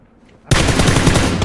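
Gunfire in PUBG on the Vikendi map during a squad match, a loud sudden burst of rapid automatic shots that starts after a quiet moment and continues without a break.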